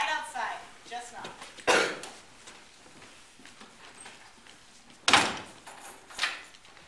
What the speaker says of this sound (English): Did she just lock that door?